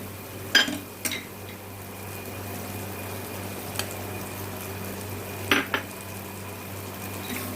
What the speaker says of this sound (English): Now we add the corn kernels to it.